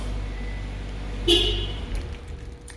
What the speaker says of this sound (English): you have that beeping sound every time you press the lock and when the car starts